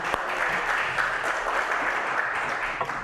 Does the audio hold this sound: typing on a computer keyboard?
no